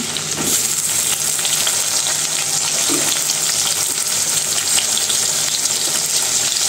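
Cut eggplant is added to a frying puti fish curry, bringing a loud, steady broadband sizzle and bubbling that runs unbroken with no speech.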